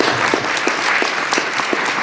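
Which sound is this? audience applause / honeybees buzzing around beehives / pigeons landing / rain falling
audience applause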